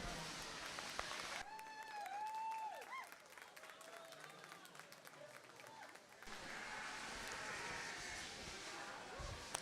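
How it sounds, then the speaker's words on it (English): Broad applause from a crowd at a youth livestock show goat class, with whoops and voices rising over the clapping midway before steady clapping resumes. "Let's give him a round of applause."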